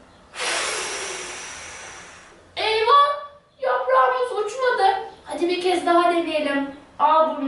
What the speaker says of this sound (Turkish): Hadi herkes hep birlikte burnundan nefes alsın ve avcuna doğru üflesin